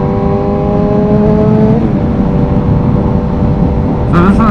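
Suzuki GSX-S750 street motorcycle engine while riding, a loud steady humming drone with shifting engine tones, then a brief rise in pitch near the end, heard close under wind rush.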